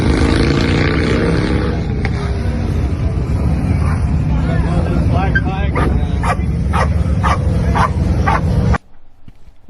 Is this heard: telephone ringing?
no